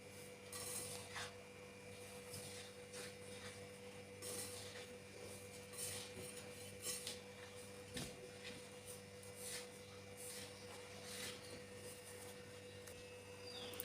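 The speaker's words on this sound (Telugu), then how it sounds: "పిండిని ఇలా చేతితోటి మంచి పొడులన్నీ కలిసేలాగా కలుపుకోవాలి" Dry flour and spice powders for crispy janthikalu are rubbed together by hand in a bowl, giving soft, repeated rasping scrapes in an uneven rhythm, faint and close over a low steady hum.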